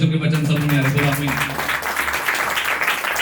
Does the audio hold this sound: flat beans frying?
no